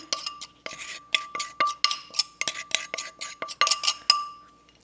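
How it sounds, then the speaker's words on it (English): A metal spoon scrapes banana bread batter from a bowl, giving a quick run of sharp clinks and scrapes close by, with no talking. "I'm going to take my handy dandy spoon and I'm just going to scrape out the excess"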